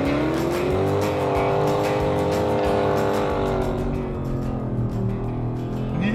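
Dodge Challenger Scat Pack Widebody accelerating hard on a track, a loud sustained engine roar climbing through the revs with gear-change dips and tire noise, close and without talk.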